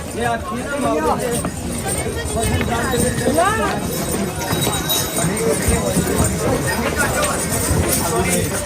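Horses clip-clop along the crowded pilgrimage path to Vaishno Devi near Ardhkuwari, hooves tapping in an irregular rhythm under busy crowd babble and nearby talking.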